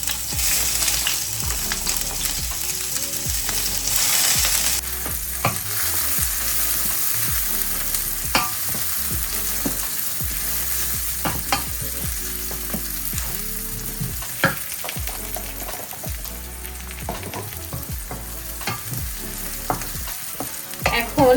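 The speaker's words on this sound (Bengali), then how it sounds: "এখন আমি লইটা মাছ রান্না করব, তার জন্য সবার প্রথমে দিব হলো কাঁচা পেঁয়াজ কুচি।" Chopped raw onion frying in a pan as the first step of a loitta fish curry, with a steady close sizzle broken by repeated clinks and scrapes of stirring throughout.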